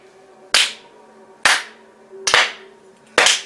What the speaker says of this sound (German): Sarkastisches Klatschen.